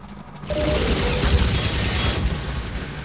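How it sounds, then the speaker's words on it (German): Explosion in the Half-Life 2 video game: a loud, rumbling blast hits after a brief quiet start and sustains as a heavy crashing roar with rattling debris to the end. "Dann explodiert es anscheinend."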